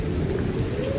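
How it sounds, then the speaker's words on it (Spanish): Steady, dense rain with a low thunder rumble underneath, played back as a sound effect inside a church, continuous and fairly loud with no voices. "De vez en cuando tiene que salir algún trueno. La lluvia intensa."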